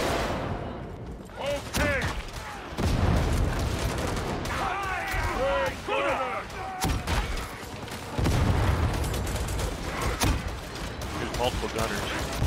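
Heavy video game gunfire from several shooters in a fight with mutants, with rapid overlapping bursts and booms throughout, while a voice shouts excitedly over the shooting.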